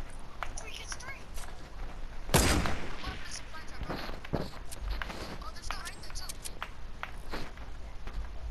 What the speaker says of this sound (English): I'm going to try sniping.